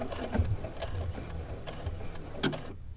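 A Brother sewing machine stitches a button in place, a quiet, continuous mechanical whir with light rhythmic ticking that stops abruptly at the end.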